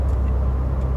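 A 2017 Subaru WRX with a drop-in filter and stage 1 tune pulling under acceleration, a steady low engine drone heard from inside the car, brief and without speech.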